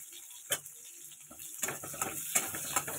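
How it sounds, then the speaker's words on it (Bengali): Garlic and onion fry in a pan, giving a quiet sizzle under a few sharp clacks of a spoon stirring against the metal. "আগে এগুলো একটু লাল লাল করে ভেজে নিই।"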